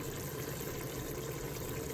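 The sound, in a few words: pouring warm water into a pot of oxtail stew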